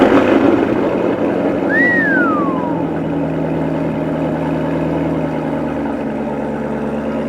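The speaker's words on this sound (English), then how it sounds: "Black-tipped Corsa Extreme exhaust. That's amazing." Loud, deep Corvette exhaust with a black-tipped Corsa Extreme system rumbling steadily at close range, with a brief rising and falling whine early on.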